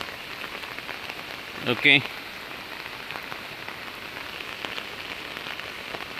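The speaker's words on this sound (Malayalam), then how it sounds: "ഏകദേശം നല്ല മഴ സമയമാണ്." Heavy rain falls steadily on surfaces in a dense, even hiss that lasts throughout, with a brief spoken word partway through.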